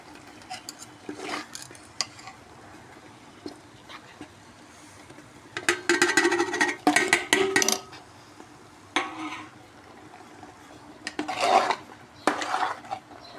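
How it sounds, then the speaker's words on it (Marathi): Masala sautéing in hot oil in a pan for a Sai bhandara meal, with metal spoon scraping and clinking against the pan in irregular bursts, louder clusters coming and going. "आता मसाला मस्त परतला गेला आपला"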